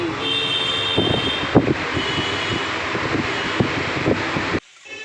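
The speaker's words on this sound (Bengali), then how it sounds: "চলুন একটু ফ্যান চালাই একটু হাওয়া খাই" An electric fan runs steadily nearby with a broad, airy whoosh and a faint motor whine, plus a few soft knocks, before it cuts off abruptly near the end.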